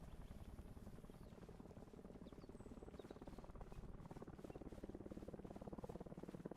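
A helicopter passes overhead in the video game Arma Reforger, producing a continuous, rapid rotor chop and low whooshing drone that stays steady and faint throughout, with no voices over it.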